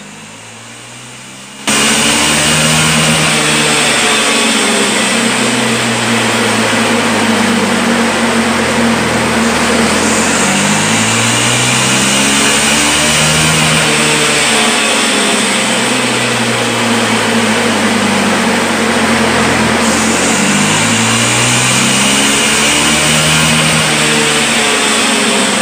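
An engine under dyno testing revs hard and steadily after a sudden start, loud and droning with rising and falling surges in a cyclic pattern, nothing else audible.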